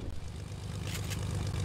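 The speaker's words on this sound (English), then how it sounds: "Plane, plane." A propeller airplane passes overhead in the Fortnite Season 7 video game, giving a steady, continuous low engine drone with a faint rising airy wash partway through, moderately loud and with no one talking over it.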